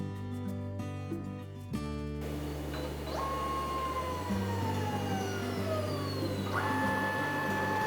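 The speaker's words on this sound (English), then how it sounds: "The image stabilizer flattens the photos to make a better scan. Then all you do is press scan." A ScanSnap SV600 overhead scanner runs a photo scan, giving a close mechanical whir with steady humming tones and gliding pitch sweeps as the motor moves, with no talk.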